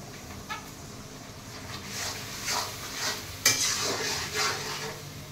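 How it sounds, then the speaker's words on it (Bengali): Spice paste for chicken curry frying and being stirred in a pan, a soft steady sizzle broken by repeated scraping stirs and one sharp clatter partway through, close with no voices. "এখন মশলাটা কষবে। রাখলাম মশলা কমানো পর্যন্ত।"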